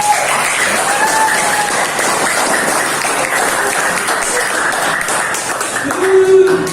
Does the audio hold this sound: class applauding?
yes